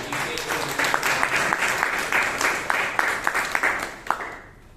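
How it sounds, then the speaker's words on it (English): Applause from a Toastmasters meeting audience for the tag team, a steady patter of many hands at moderate distance that tapers off near the end. "the tag team deserves a big round of applause"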